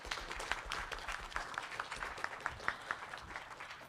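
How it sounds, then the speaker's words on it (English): A conference audience claps for a speaker at the end of a paper session, a soft, moderate round of applause from a modest crowd at a distance, with no talking. "So we have a round of applause for Jean"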